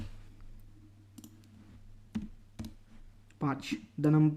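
Clicks from keys tapped on a computer keyboard while a number is entered into a C program, a few sparse taps followed by louder bursts of key presses near the end, with a low steady background hum.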